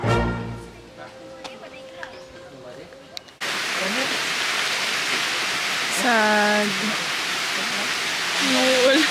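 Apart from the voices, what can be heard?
sudden rain falling outdoors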